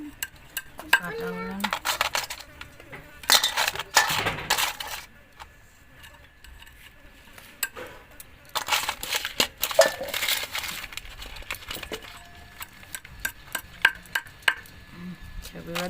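A knife slices through a purple cabbage in a home kitchen, giving crisp, close chopping strokes in quick bursts separated by pauses, with some utensil clatter and occasional talk.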